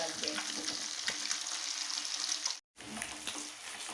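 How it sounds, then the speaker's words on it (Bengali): Rohu fish pieces fry in hot oil for a Bengali kalia, giving a steady, close broadband sizzle with a brief dropout near the end before the crackle resumes. "আমি মাছগুলো কিন্তু লাল লাল করে ভাজবো"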